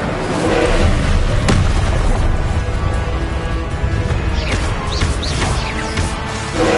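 The Incendio fire spell from Hogwarts Legacy bursts out loud and close as a dense roaring blast, followed by continuous booming rumble and whooshing flame for several seconds.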